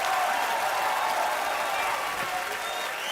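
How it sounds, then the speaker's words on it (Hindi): An Indian TV comedy show's studio audience claps in a dense, steady wash of applause, with a faint crowd murmur underneath, lasting about three seconds. "एक बार जोरदार तालियों से स्वागत कीजिए"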